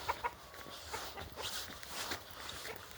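A rooster clucks and calls faintly in the distance near a chicken coop amid quiet outdoor sounds and soft footsteps.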